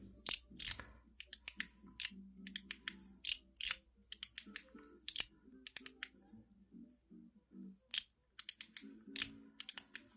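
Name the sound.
stainless steel mechanical slider clicking through detents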